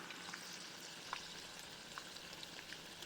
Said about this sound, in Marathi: मध्यम आचेवर हे बॉल्स सोनेरी रंगावर तळून घ्या